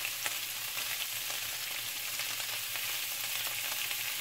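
Potatoes sizzle and crackle steadily in a hot pan, a dense, even frying hiss with small pops, heard up close without talk.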